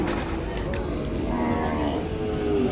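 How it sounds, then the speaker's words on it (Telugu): Ongole cattle at a livestock market moo in a long, drawn-out low call over a busy background of crowd murmur and market noise. "ఎన్ని ఆవులు."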